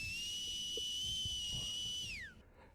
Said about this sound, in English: A very piercing, loud whistle.